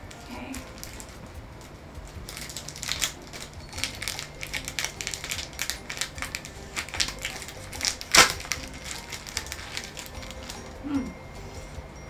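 A self-warming steam eye mask packet is peeled open close by with a long series of crinkly, crackling tears and rustles, one sharp snap standing out midway.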